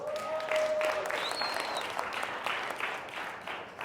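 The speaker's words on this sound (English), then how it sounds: "Give it up. Round of applause." Audience applause fills a keynote talk hall on making money from speaking on stage, a steady wash of clapping from many hands, moderately loud, with a faint whistle-like tone briefly rising above it.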